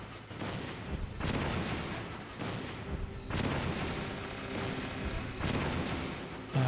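Metal Gear Solid explosions, a run of heavy booming blasts at roughly one-second intervals, each with a rumbling tail, loud and close with no talking.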